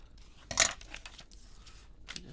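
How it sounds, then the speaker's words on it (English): A single quick snip of scissors trimming the edge of a paper Christmas craft piece, sharp and close, followed by faint soft handling rustle in a quiet room. "I'm just going to trim a little bit off this edge."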